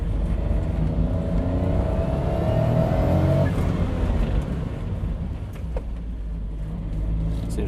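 A restored kei car with a turbocharged 660 engine drives along, its engine note rising and falling under steady road rumble and cabin noise, heard from inside and without talk.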